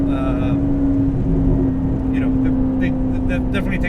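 An Alfa Romeo 8C Competizione engine running with a steady, loud low hum and rumble, while people talk over it.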